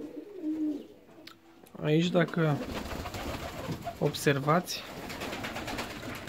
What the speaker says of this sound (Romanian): să ieșim în terasa porumbeilor, să vedem ce mai fac porumbeii noștri